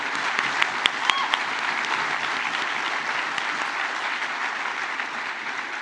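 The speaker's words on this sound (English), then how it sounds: "one more round of applause for the Pennsylvania Federation of Republican Women, 100 years old" Sustained audience applause at a political dinner honoring the centennial of the Pennsylvania Federation of Republican Women, a dense steady wash of clapping with a few sharp louder claps near the start.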